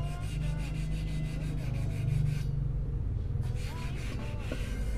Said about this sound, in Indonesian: ini gua pakai amplas nomor 400 ya. Pakai air juga untuk pengamplasannya biar lebih mudah